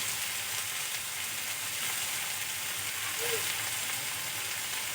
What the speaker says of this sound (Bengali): এখন আমি কিছুক্ষণ ধরে ভেজে নেব।